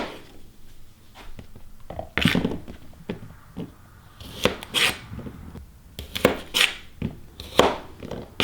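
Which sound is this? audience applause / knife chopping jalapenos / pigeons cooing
knife chopping jalapenos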